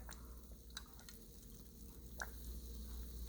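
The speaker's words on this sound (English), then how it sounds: "Do you hear that fizz," Fizzy ice in a colorful science experiment gives a quiet, continuous sizzling crackle, dotted with a few small clicks and pops.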